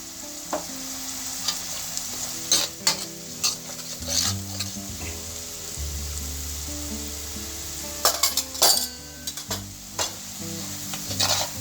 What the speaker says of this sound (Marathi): आणि मसाला छान परतून घ्यायचा।